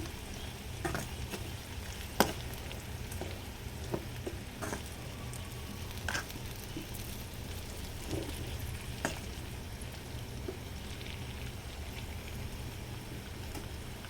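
Turmeric and chili powder get stirred into a sizzling pan of vegetables for veg biryani, with a steady low frying hiss and occasional clinks of a spoon against the pan throughout.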